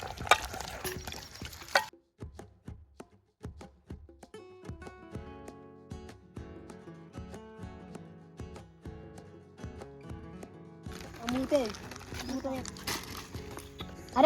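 A spoon stirs chicken curry in a pot, giving a rhythmic series of close scrapes and clanks, with a sizzling, frying wash at the start and end and voices talking around it.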